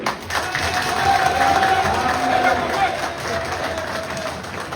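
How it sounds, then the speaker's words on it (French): Applause and cheering from a political crowd, a loud, dense mass of clapping mixed with crowd noise and a sustained shout, held steady for several seconds. "applaudissez ça pour nous"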